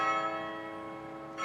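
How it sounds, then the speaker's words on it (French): Automatic carillon bells in a belfry in Douai chiming the half hour, a sustained ringing bell tone with rich overtones decaying slowly, then a fresh strike near the end. "c'est le carillon automatique qui rythme la vie des Douaisiens"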